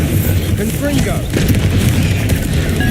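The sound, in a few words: Confringo blasting spell explosions in video game Hogwarts Legacy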